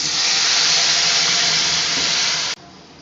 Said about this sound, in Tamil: இப்போ வந்து நம்ம கரைச்சி வச்சுருக்கிற ரசத்தை ஊற்றி